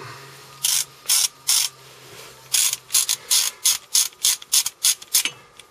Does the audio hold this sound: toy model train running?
no